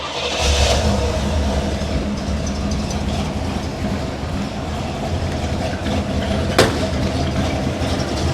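A 1974 Pontiac Grand Ville convertible with a 455 V8 and three-speed automatic fires up with a brief burst, then settles into a close, throaty rumble that rises and falls with revving, ending in a short sharp click.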